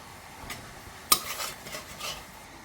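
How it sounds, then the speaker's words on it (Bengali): Nuts are lifted from hot oil and nigella seeds are tossed in to sizzle, with a sharp clatter of a metal spoon against the pan followed by soft stirring and a light frying hiss. "কালো জিরেটা ফোড়ন দিয়ে দিলাম"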